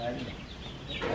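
Chickens cluck briefly nearby on a farm, a short faint burst of clucking with some background noise.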